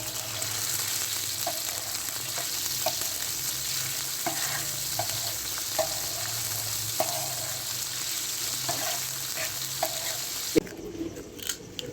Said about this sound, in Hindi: चिकन को अच्छी तरह से फ्राई कर लेंगे।